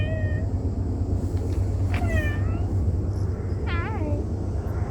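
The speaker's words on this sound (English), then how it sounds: "The second I started talking about it, the cat immediately came back." A cat meows several times outdoors, short rising and falling calls at moderate distance over a steady low rumble of background noise.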